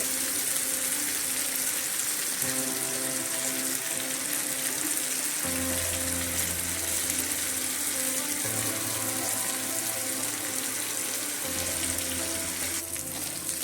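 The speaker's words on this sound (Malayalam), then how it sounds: "ഈ സൈഡും 2 മിനിറ്റ് നമുക്ക് ഫ്രൈ ചെയ്തെടുക്കാം." Prawns fry in a pan for a prawn roast, giving a continuous, close, loud sizzle. A low hum shifts in steps underneath, and no one speaks.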